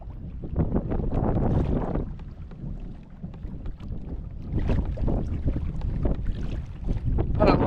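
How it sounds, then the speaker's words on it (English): Motorboat pleasure craft motoring on a lake, heard as a broad rumbling wash with wind buffeting the microphone, rising and falling throughout. "It's a boat. They're motoring up."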